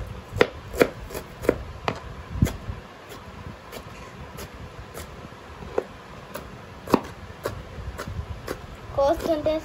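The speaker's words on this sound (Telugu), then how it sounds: "కోస్తుంటే సౌండ్ భలే వచ్చింది" A knife chops chicken into pieces on a board, landing sharp, irregular cuts up close, with soft voices faintly in the background.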